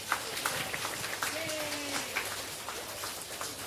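A small audience at a children's opera performance gives the pianist a round of applause, with scattered, sparse claps popping out over a murmuring room, fairly quiet and uneven.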